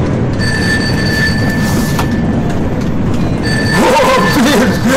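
A moving train rumbles loudly and continuously, with a few thin high squeals from the wheels and a brief rising whine toward the end.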